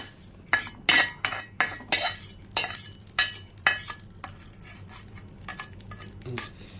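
A spoon stirs chutney in a metal pan with about a dozen rhythmic, close scraping strokes and clinks. The strokes slow and soften toward the end.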